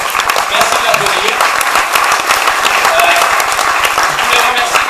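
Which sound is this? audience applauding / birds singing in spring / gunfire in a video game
audience applauding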